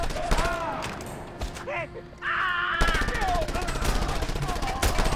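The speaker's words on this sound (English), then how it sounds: "What is that guy shooting at me with? Oh, a rifle." Rifle or shotgun fire in the Just Cause 2 video game, a dense run of sharp repeated shots crackling through a busy battle soundscape, loud and close, with a brief quieter lull in the middle.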